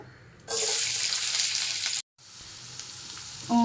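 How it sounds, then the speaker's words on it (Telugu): Chopped onions frying in oil give a loud, hissing sizzle that bursts in abruptly, cuts out for a moment, then settles into a softer, steady crackle close by. "కొంచెం నూనె వేసుకుందాం కట్ చేసుకున్న ఆనియన్స్"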